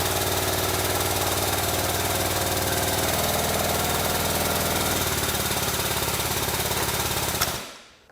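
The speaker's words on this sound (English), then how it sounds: "We're gonna press this bushing straight through." A press, likely hydraulic and driven by a running engine or pump, pushes a bushing out of a UTV radius arm, a loud steady rattling mechanical drone that shifts pitch midway and stops abruptly at the end.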